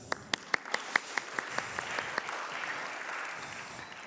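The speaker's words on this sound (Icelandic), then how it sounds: "gefum þeim þá gott klapp líka." Church congregation applause at a Sunday service in Lindakirkja, a few loud distinct claps at first that blur into a softer, thinning patter of many hands.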